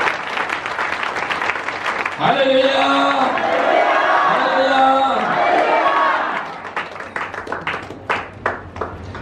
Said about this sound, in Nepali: के हामी एकपल्ट यहाँको लागि ताली नबजाउँ?